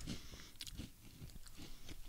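Close, crisp crunching and biting on a crunchy baked honey and apple twist snack, with repeated bites and chewing in an irregular rhythm and no talking.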